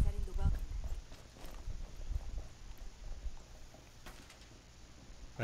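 Footsteps thud on stairs in a Rainbow Six Siege match, quiet clopping steps in an irregular rhythm with people talking over them.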